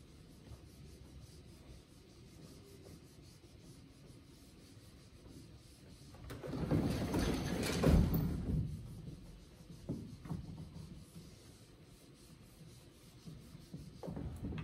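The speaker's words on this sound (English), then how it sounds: "let me do a little bit of erasing here." An eraser rubbing across a lecture-hall board, a soft scrubbing hiss that swells into a louder burst of strokes midway before easing back to a faint rasp, with no talking.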